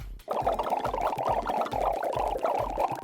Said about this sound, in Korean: 계속 거품이 올라오네.